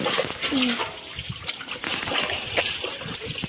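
Dishes and vessels washed by hand outdoors, with running water trickling and splashing in uneven bursts, close by and moderately loud, with faint background noise.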